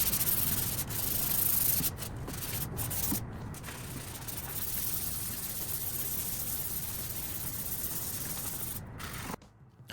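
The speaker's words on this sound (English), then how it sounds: "I am going to do a quick sand with a high grit sandpaper" Fine high-grit sandpaper is rubbed by hand over a dye-stained wooden furniture piece, a close, steady rasping with brief pauses before stopping at the end.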